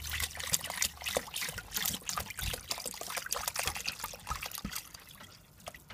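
Water pours and trickles steadily into a pot already holding about four cups of apple cider vinegar for bone broth, a continuous close splashing fill with no voices.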